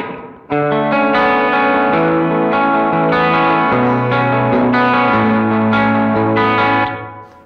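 An overdriven electric guitar through a Line 6 Helix preset rings out sustained chords and notes with a short, tight slapback echo doubling each one, loud and continuous before fading.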